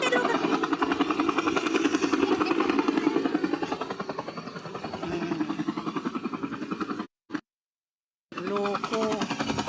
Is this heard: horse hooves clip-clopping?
no